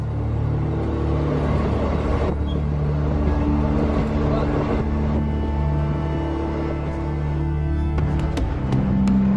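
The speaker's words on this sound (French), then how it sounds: "C'est la première fois que je prends le train de jour assis en Inde." Steady low rumble and rattle of a moving passenger train carriage in Gujarat, India, with a continuous engine drone and a few faint clanks near the end.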